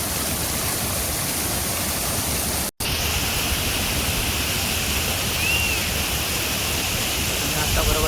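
River water rushes steadily at a partly built village dam, a loud continuous broadband roar with a brief cut partway through.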